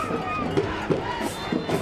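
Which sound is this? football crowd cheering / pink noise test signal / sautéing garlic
football crowd cheering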